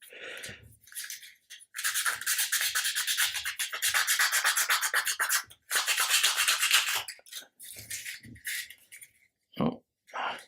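Rasping strokes of sandpaper on the wooden hull of an Amati 1/80 Endeavour ship model, close and dry, in long continuous bursts with short pauses, then a few brief scrapes near the end.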